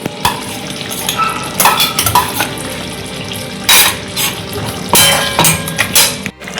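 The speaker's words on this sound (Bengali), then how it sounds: "এবার এই ম্যারিনেটেড চিকেনটা ওই তেলটাতে দিয়ে একটু ভাজা করব" Marinated chicken fries in oil in a pan, a steady sizzle broken by bursts of louder hissing and scraping as it is stirred, with occasional clinks of utensil on metal.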